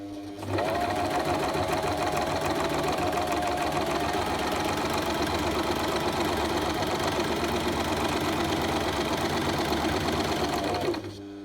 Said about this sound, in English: I'm gonna put my presser foot down. And I'm going to sew.